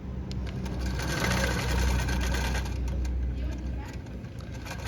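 A Handi Quilter longarm quilting machine stitches with a continuous, fast mechanical whir and buzz. It sounds close and steady and carries through the whole stretch.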